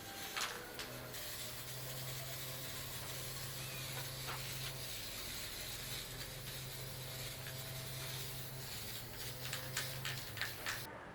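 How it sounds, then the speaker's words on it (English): Faint hissing spray bursts from a spray paint can, several sprays with short pauses, quiet and close, no voices. "I used just regular spray paint and I applied 3 coats in total."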